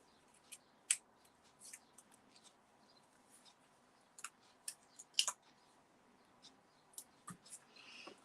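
Scissors cutting designer series paper into small pieces for a handmade card: faint, sparse snips and light paper rustles spread irregularly through a quiet room.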